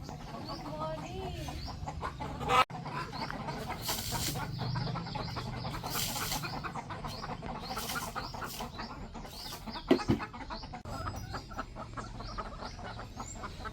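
Several chickens cluck and cackle in a busy flock at feeding time as wheat is brought, close by, with a couple of sharp knocks among the steady chatter.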